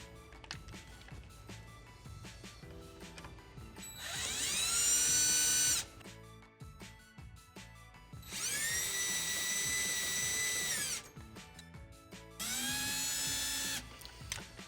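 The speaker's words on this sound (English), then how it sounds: "I'm going to start by using a flathead screwdriver and then work my way back and forth between the two screws" Power driver spinning screws into a Delta R4707 deck-mount rough-in on a thick Roman tub deck: three loud, high whining bursts of a few seconds each, separated by quieter handling noise.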